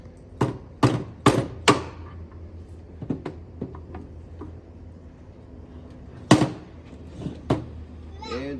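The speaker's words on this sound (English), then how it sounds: "I'm going to use the plastic deadbolt hammer here because I don't want to mess up the threads" A plastic dead blow hammer taps a Jeep JL license plate bracket in several sharp, close knocks, first a quick group of four, then scattered lighter taps, with a pause between them and another firm strike near the end.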